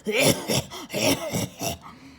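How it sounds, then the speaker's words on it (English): Several rough, throaty smoker's coughs or throat-clearing bursts in a loose series, close up and fairly loud, with breathy pauses between them. "You hear the people coughing when they smoking."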